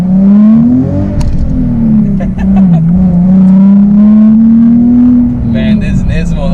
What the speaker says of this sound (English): this car used to be the loudest Nissan I've ever heard